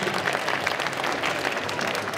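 An audience at a costume contest during a geek convention in Chalon-sur-Saône claps steadily, a dense, even wash of applause from a large crowd throughout.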